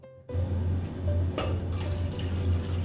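Pickle-smelling liquid pours into a container during a cucumber cooking lesson, a steady close trickle and splash running continuously after a brief silence.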